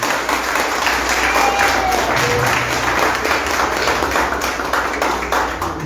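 Strong, steady applause from a church congregation at a Spanish-language sermon, a continuous dense wash of clapping with a low hum beneath it throughout.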